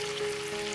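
Chicken drumsticks for tangdi kebab fry in a pan, a brief, even sizzle heard close up with a faint hum underneath.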